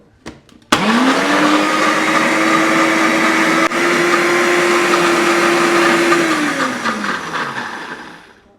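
A blender whirring mango into a thick puree, starting abruptly and holding a loud, steady motor roar for about six seconds before winding down, with no talking.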